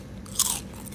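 One sharp, crunchy bite into fried adobo chicken leg, a single close crackle over quiet room noise.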